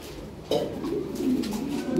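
A Lahore pigeon gives a soft, low coo close by, a short rolling call that swells midway and carries on faintly over a quiet background.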